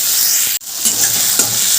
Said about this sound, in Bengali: এরপর আমি দিয়ে দিলাম ওই যে টমেটোটা নিয়েছিলাম টুকরো করে কেটে দিয়ে দিলাম